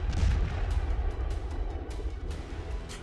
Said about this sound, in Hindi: इन्हीं खाइयों से तोप के गोले लेकर रूसी सैनिक आते हैं, मशीन में लगाते हैं और फायर करके फिर बंकर में चले जाते हैं।